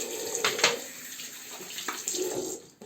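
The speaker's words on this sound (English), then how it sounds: "So I will just rinse the razor" A safety razor, a Muhle R41, rinsed under a running tap, with steady splashing water and a few brief louder bursts as the blade passes through the stream, close and alone without talk.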